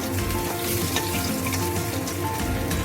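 Pieces of katla fish fry steadily in hot oil, a dense, continuous crackling sizzle close up with no break and no voices.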